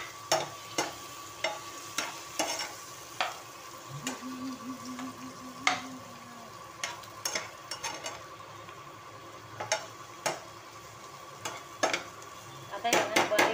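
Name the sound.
brinjal frying and being stirred in a pan on low gas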